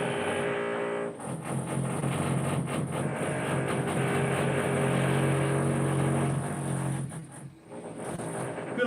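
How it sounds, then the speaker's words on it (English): Drilling carries on in the background, a sustained droning whine with steady tonal harmonics that briefly dips near the start and again toward the end. "Sorry for all the drilling, man."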